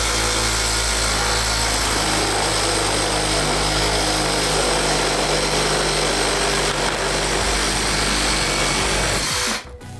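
A DINSHARE 20V cordless reciprocating saw cuts diagonally through a short piece of wood, a loud, continuous buzzing rasp that runs without pause and stops abruptly at the end.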